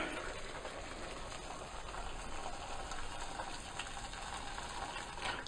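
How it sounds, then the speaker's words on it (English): A steady broadband bubbling and hissing, like water rolling at a boil in a pot, continuous and fairly close with no voices. "Boiling the water first speeds up the process."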